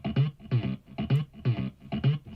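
A heavily distorted synth bass with stereo widening pulses in a steady, punchy pattern of short repeated notes, loud and alone with no voices.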